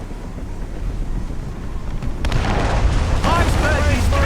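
Ship cannons firing in the naval combat of the video game Assassin's Creed Rogue, a set of heavy booms breaking over steady wind and sea noise. Shouted commands are heard alongside the blasts.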